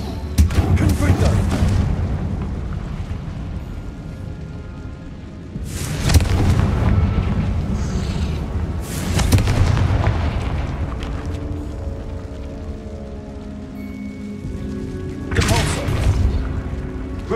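Confringo fire-blast spell explosions in the Hogwarts Legacy game, three heavy booming blasts spaced several seconds apart, each with a rumbling tail, under intermittent talk and a low droning background.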